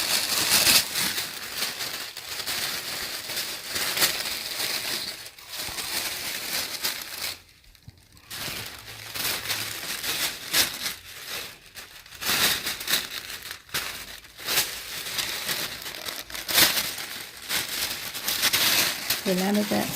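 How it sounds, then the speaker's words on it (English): White and blue paper is folded in half, giving steady crinkling and crumpling rustles that come and go in bursts over about twenty seconds, close and fairly loud. "So I'm going to use white, and I'm going to use blue. Fold this in half."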